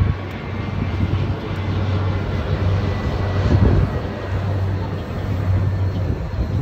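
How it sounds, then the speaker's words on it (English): A jet airliner passes overhead during a Boston Harbor cruise, a broad steady roar that swells and fades slightly over the boat's low engine hum. "I'll pause for the airplane"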